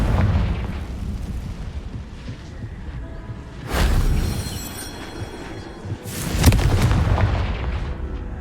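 A Confringo blasting spell in the video game Hogwarts Legacy erupts twice, each a loud booming explosion with a broad crackling burst, over a steady rumbling game backdrop.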